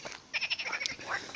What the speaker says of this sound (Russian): Даже лягушки в болоте ржут над нами.